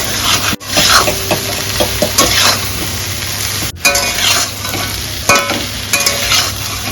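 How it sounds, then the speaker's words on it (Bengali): Boiled taro stolons tossed into a hot frying pan and stirred, giving a loud, steady close sizzle with scraping utensil strokes and occasional clinks against the pan. "সেদ্ধ করে রাখা লতিগুলোকে এখন দিয়ে দেবো।"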